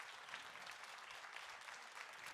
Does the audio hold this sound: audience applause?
yes